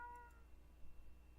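A pet cat meows once, short and close, over a meal of tuna, then the room goes quiet apart from a low background hum.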